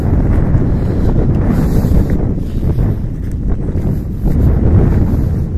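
Strong wind buffets the microphone on a farm lot with a hut, a steady loud low roar with gusts swelling and easing throughout, no other sounds standing out.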